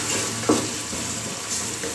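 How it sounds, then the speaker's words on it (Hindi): Ginger garlic paste fries lightly in a pot for matka biryani, giving a steady soft sizzle with a brief stirring scrape midway, close and alone. "अदरक लहसुन का पेस्ट मैंने हल्का सा भून लिया।"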